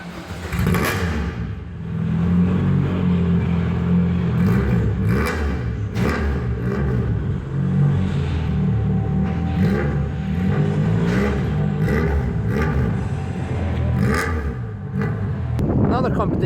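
Car engines revving and accelerating at an autocross practice session, a steady mid-pitched rumble with rising revs that holds throughout, mixed with crowd and background voices.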